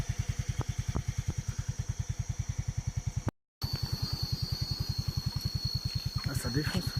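A scooter ridden over a rough red-dirt road on the way to Chiang Mai, its engine a rapid, steady, close thrum with a brief dropout partway, later joined by some rattle and clatter.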